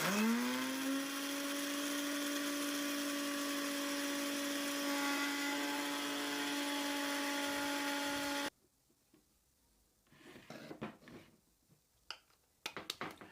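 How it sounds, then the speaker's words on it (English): Blender-attachment spice grinder pulverising dried turmeric into powder: a loud, close, steady high whir for about eight seconds that stops abruptly, followed by quiet tapping and rattling sounds. "I am using a spice grinder that comes with your blender"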